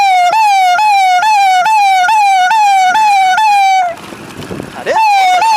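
A police or ambulance siren wails loudly and close by in a fast repeating rising-and-falling cycle, cuts off briefly amid road noise, then starts up again.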